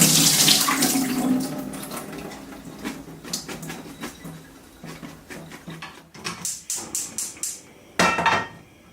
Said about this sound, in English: Soak the Gobo straight in water for a while and drain well.